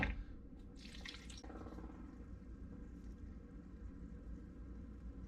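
Rocks from gem-hunting paydirt are rinsed in water, with faint, close trickling, swishing and dripping at low volume and an occasional brief splash or clink, with no voices.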